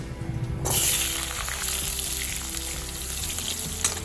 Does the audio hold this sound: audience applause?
no